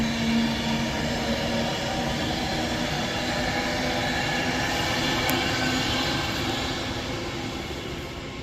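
A Class 390 electric train, unit 390 119 in climate change livery, passing at Rugby on the West Coast Main Line, a loud steady rumble and roar that holds for several seconds before easing slightly.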